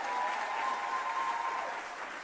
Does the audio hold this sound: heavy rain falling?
no